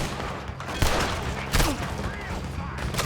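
Gunfire breaks out in a camp in the video game Red Dead Redemption 2, with loud repeated shots over a busy background while voices shout.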